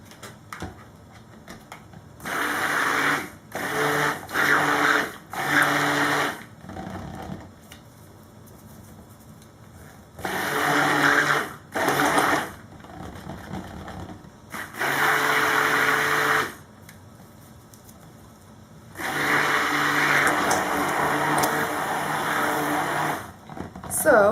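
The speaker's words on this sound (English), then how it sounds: "I think I'll rinse my stick blender off before I do my blender" A stick blender runs in several short bursts and then longer stretches while being rinsed off during cold process soap making, with quiet gaps between each whir.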